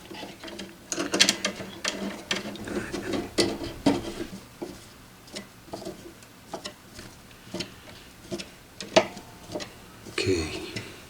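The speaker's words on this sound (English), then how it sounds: "Let's put the screws in, big chunky power rails." Screws being driven into the boards of a pair of S19j Pro ASIC miners, fastening the chunky power rails: repeated small metallic clicks, ratcheting and clatter of hardware, close and intermittent, with no voices.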